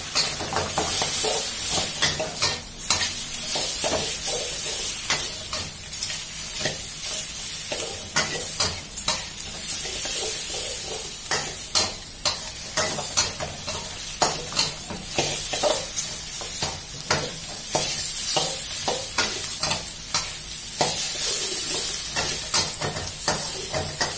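Squid is stir-fried with salted egg in a hot pan, giving constant loud sizzling broken by repeated scraping and clacking strokes of the stirring utensil, with no voices.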